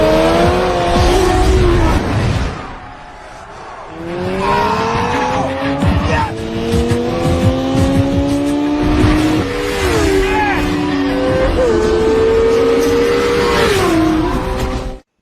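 Motorcycles racing in the film Biker Boys, a Yamaha R1 against a Suzuki Hayabusa 1300R, loud and close with roaring engines, revving and screeching tire skids, a voice talking over the racket.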